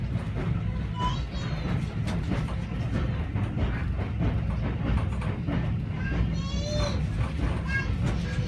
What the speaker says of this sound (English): Apparently, we approached some train cars up close to our train